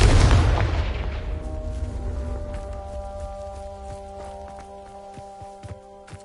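A Confringo explosive spell goes off in Hogwarts Legacy with a loud, close blast. Its rumble fades slowly over several seconds while tonal game music rings on underneath.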